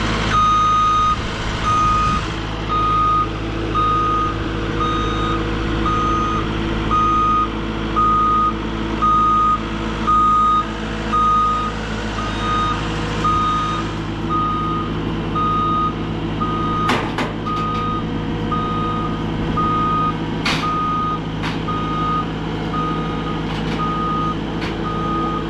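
A skid loader reverses at an asphalt-cutting job site, its backup alarm beeping in a steady, evenly spaced pattern over a continuous diesel engine rumble, with a few sharp clanks near the end.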